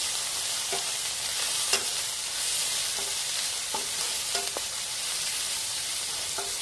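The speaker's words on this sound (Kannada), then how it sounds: "ಅದ್ರ ಜೊತೆಲೆ ಇವಾಗ ಹಾಕೊಳ್ಳೋಣ. ಸ್ವಲ್ಪ ಫ್ರೈ ಮಾಡ್ಕೊಳ್ಳೋಣ." Sliced onions sizzle steadily in a pan for a chicken liver fry, with a few sharp spatula taps and scrapes rising above the dense, even hiss.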